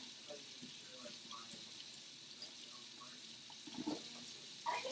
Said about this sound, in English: you continue to let the water run for a few minutes